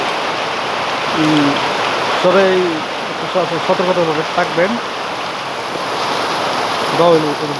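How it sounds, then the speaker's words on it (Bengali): Heavy daytime rain in Pakundia pours in a steady, loud roar under dark skies, with someone talking intermittently over the downpour. "এই মুহূর্তে বৃষ্টি খুবই বেশি আপনারা বৃষ্টি শব্দ শুনতে পারতেছে খুবই ভয়ঙ্কর বৃষ্টি"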